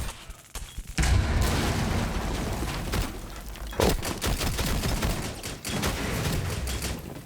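Rapid gunfire bursts from a Rainbow Six Siege round, loud and dense with repeated volleys and sharp shots overlapping throughout, with no voices.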